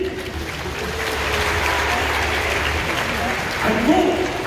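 Audience applause at a Gauls-versus-Romans show at Parc Astérix, a sustained dense wash of clapping with crowd noise and some voices mixed in, swelling slightly toward the end.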